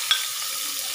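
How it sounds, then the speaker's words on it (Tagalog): Sliced onion hitting hot oil in a pan, a bright continuous hiss with a brief sharp spatter at the start, no talking. "Okay, so igigisa na po natin ang sibuyas,"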